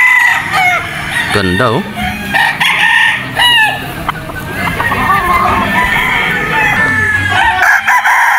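A Super Brown Red straight comb gamefowl rooster crows loudly up close at a gamefarm on Mt. Banahaw, with other fowl clucking around it and someone talking briefly.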